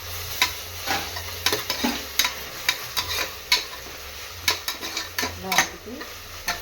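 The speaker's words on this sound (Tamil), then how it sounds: "இஞ்சி பூண்டை போட்டு நல்லா வதக்கிக்கலாம்." Onions frying in a pan with ginger and garlic, a steady sizzle under repeated scraping, clinking stirs close by, for a mushroom biryani.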